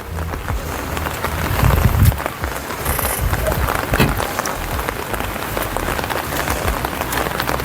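Heavy rain pours down at a riverside camping ground in Sentul, Bogor, a dense, loud, continuous hiss and patter, with a stronger burst partway through.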